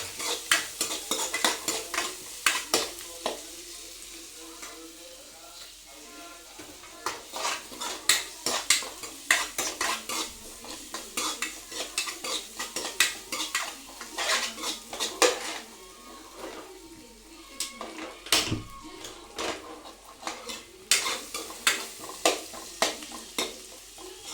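Chopped onion, green chilli and curry leaves frying in oil for jeera rice, a pan sizzling underneath while a metal spoon scrapes and clanks against it in repeated, uneven stirring strokes, close and fairly loud, no speech.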